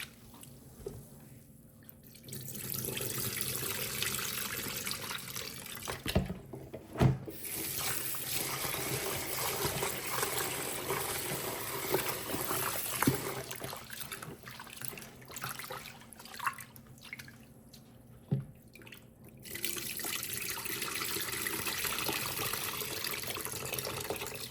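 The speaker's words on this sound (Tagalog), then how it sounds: "Huhugasan natin ng mga 2 beses hanggang mawala yung puti ng full color." Glutinous sticky rice being washed under tap water for a mango sticky rice dish, a steady close rush of running water with splashing and sloshing as the grains are swirled, with a few short breaks throughout.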